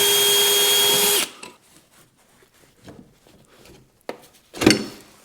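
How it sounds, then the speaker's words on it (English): Power tool unbolting a car's lowering spring bolts: a loud, close whir for about a second stops abruptly, followed by quieter metallic clinks and handling noises and a final short burst. "Now we still need to unbolt right here"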